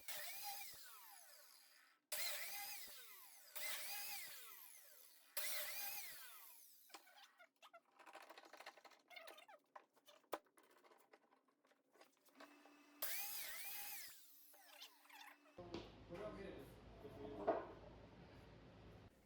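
A biscuit joiner cuts slots in red oak boards in a run of short whining bursts, each starting sharply and stopping, with quiet gaps between, followed by handling noise and a harsher cut at the end.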